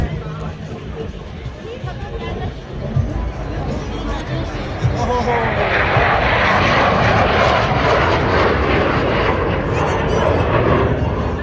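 Solo Türk aerobatic jet passing over a crowded Teknofest air show, a loud roaring engine that swells and stays heavy for several seconds, heard outdoors amid crowd noise with people talking nearby.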